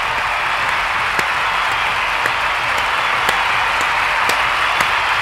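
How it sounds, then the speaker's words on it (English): Steady applause from an audience fills the whole stretch, a dense, even wash of many hands clapping with a few sharper claps popping out, at a Mathematics World Cup winner announcement. "a big round of applause for all teams who took part"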